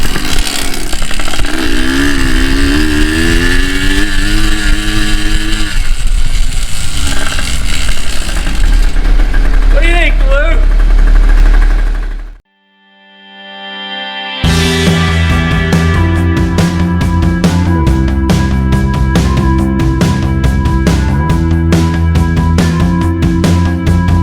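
A rebuilt Yamaha PW80 dirt bike engine runs loud and close, its buzzing two-stroke note rising and falling with throttle blips, cutting out briefly midway, then restarting into a steady, rattly idle.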